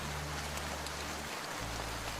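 Steady rain falling through a park, an even broadband hiss with a low background hum that drops out briefly near the middle and returns, no voices.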